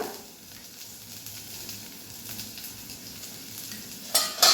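Whole okra frying in a pan is stirred, a soft steady sizzle with faint scraping, ending in a few louder clatters of the spoon against the pan.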